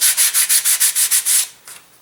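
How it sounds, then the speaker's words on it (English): Sandpaper rubbing over glue lines on a balsa wing of an elastic-launched glider, about ten quick rhythmic strokes close up, then a pause and one last light stroke. "and I am sanding them"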